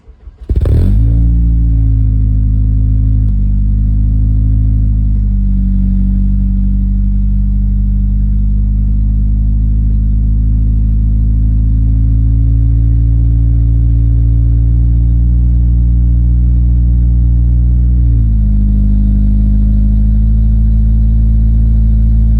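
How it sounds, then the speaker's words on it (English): An Acura RSX engine cranks on a cold start and catches with a sharp burst, then settles into a loud, steady idle close by, dipping slightly near the end. "now it's time to get a nice little cold start"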